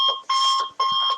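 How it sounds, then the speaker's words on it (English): Electronic alarm clock ringing in loud, rhythmic bursts of a steady high beeping tone, three pulses separated by brief gaps, close and alone. "That's my clock alarm"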